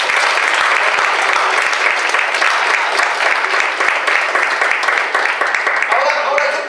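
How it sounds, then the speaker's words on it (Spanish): A church congregation applauds in a loud, sustained burst of many clapping hands, close and even throughout, with a few voices mixed in near the end. "Denle un aplauso a Tony."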